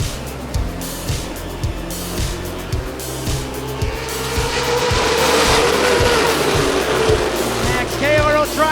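NASCAR late model race cars at Rockford Speedway roar past loudly in a pack, engines droning continuously with pulsing bass throb and rising intensity midway, an announcer's voice heard over the noise.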